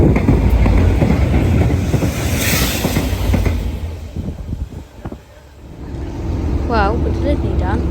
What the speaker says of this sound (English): We also get a surprise visit from 2 locomotives in the RHTT, 67023 and